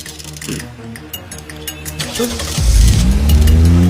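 A car engine revs while driving, starting as a steady mid-pitched hum and then swelling into a louder, deeper rising roar near the end, close and prominent with no talk over it.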